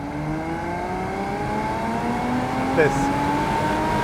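A Porsche Boxster 987 runs steadily with rising harmonic engine tones, sounding close and continuous beneath a voice speaking.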